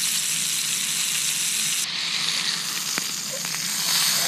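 A steak sears in a pan on an outdoor lakeside cook, giving a steady, close hiss of frying with a couple of faint clicks near the end.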